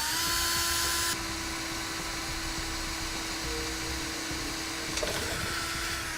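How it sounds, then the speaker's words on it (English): A steady, high-pitched power drill whine while drilling a pilot hole runs throughout, louder at the start and then settling into a continuous mechanical hum with a brief bump near the end. "we'll mark out our holes by making a pilot hole with our drill"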